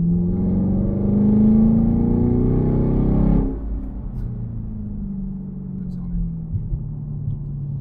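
Chevrolet Camaro SS 1LE V8 with an MBRP exhaust revving hard, a loud deep rising roar that cuts off sharply after about three seconds and settles into a low, rumbling idle.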